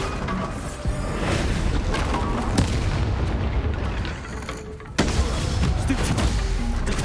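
The Bombarda spell explodes in the video game Hogwarts Legacy, producing loud, dense booms and crackling blasts in close succession, with a sharp fresh blast partway through amid continuous game noise.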